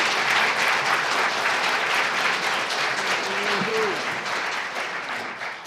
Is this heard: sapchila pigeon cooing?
no